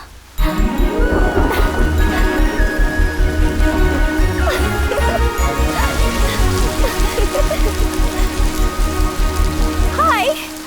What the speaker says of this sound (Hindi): जाते वक्त जो बारिश आनी चाहिए थी वो लौटते वक्त आ गई।